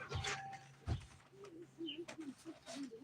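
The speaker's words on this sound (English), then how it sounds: "we got a lot of birds flying around in our yard right now" Birds call in a backyard, a few short chirps and cooing notes, fairly faint, over a light breeze and some background noise.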